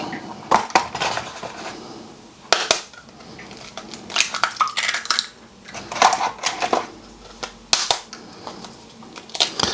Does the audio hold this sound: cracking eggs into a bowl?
yes